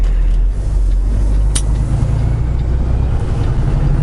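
A car engine lugging in too high a gear makes a steady, low, droning rumble that continues close by throughout, with one brief sharp click near the middle.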